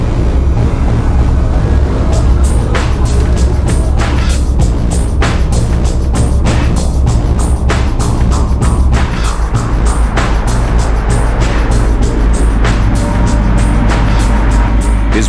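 A Volvo refrigerated lorry loaded with margarine and flour drives into a road tunnel at 60 km/h, its loud, steady engine roar and road rumble close and constant, punctuated by repeated sharp bursts of noise.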